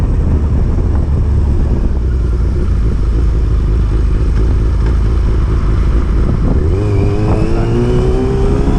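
A Yamaha Fazer 600 cafe-style motorcycle engine drones loudly and steadily up close, then around the seventh second the pitch climbs sharply as the throttle is twisted and the bike accelerates, with no talking.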